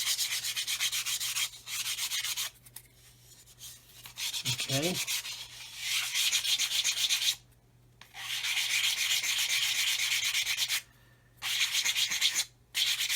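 Steady scratchy rubbing of a sanding stick over a plastic 1/144 scale aircraft model, strokes in bursts with short pauses between, close and fairly soft; a brief spoken word midway.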